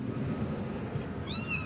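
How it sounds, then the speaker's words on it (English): A kitten trapped in a drain pipe cries out once near the end, a short, high, wavering mew heard faintly over a low, steady background rumble. "you could hear the kitten crying"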